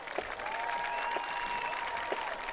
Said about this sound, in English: let's give a big round of applause to the Marion Patriot Pride Marching Band